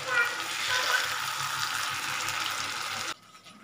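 Chicken pakora frying in hot oil, a soft continuous sizzle and crackle at low level that cuts off abruptly near the end.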